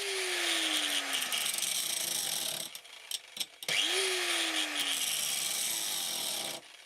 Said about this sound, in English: As an option, I decided to try with a wide emery wheel.